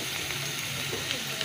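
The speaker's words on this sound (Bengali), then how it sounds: "লাল লাল করে ভাজছি" Pieces of taro (kochu) frying in oil in a pan until reddish, a soft, steady sizzle and hiss running evenly throughout at a low level.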